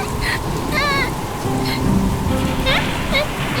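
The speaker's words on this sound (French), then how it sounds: "Huntrix est confrontée à une pluie soudaine" Sudden rain falls in an animated cartoon story as a steady hiss of rainfall with soft rumbles, under a voice narrating and brief chirping sound effects.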